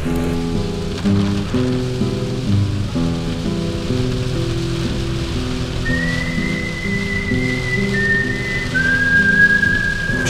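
Rain falls steadily on a farm during the winter rapeseed harvest, a dense close patter over a low humming drone, with thin whistling tones appearing toward the end.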